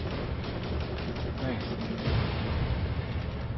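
Gunfire from a creature film as people shoot at a crocodile, a dense rattling barrage of shots over rumbling background, with voices mixed in.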